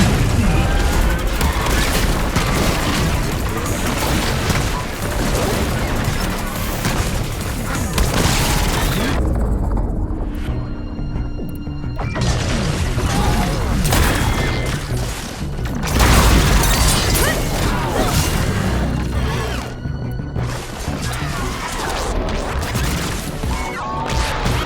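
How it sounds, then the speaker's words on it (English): Sticky bombs go off in Horizon Forbidden West, a dense sequence of loud booms and crashing impacts amid chaotic combat noise, with a few brief quieter gaps between blasts. "Alright, sticky bomb, how about that?"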